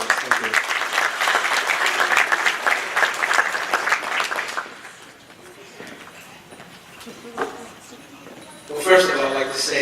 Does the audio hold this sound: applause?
yes